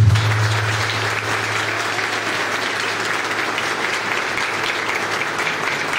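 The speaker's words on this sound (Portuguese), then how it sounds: "nós acolhemos nesta manhã de hoje também a Sofia Luciana para o sacramento do batismo com uma salva de palmas" A church congregation gives steady, dense applause to welcome baby Sofia Luciana at her baptism. The clapping is sustained and even, with a low hum underneath at the start.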